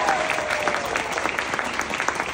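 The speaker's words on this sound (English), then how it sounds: "I want to do one final round of applause." An audience at a film cast Q&A in Toronto claps steadily in a dense, even round of applause, close and sustained throughout.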